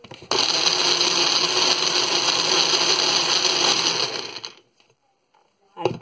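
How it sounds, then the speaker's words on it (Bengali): A kitchen blender purees ripe mango for mango mousse, running as one continuous high-pitched motor whir for about four seconds before cutting off, followed by quiet and a brief clatter. "ব্লেন্ড করতে হবে"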